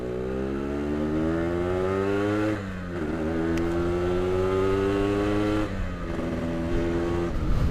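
A 2008 Yamaha RX King two-stroke motorcycle engine revs loudly and close by, rising in pitch, dipping, then climbing again in repeated sustained pulls.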